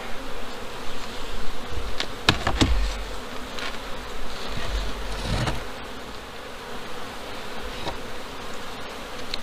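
Bees swarm around a farm hive where they carry yellow and white pollen, a steady dense buzzing near and constant, with a few louder passes as individual bees fly close.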